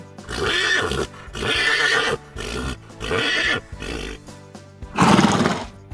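A horse neighs in several loud, close whinnies, five bursts separated by short pauses, the last one the strongest.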